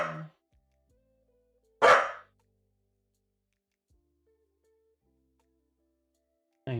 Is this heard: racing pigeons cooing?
no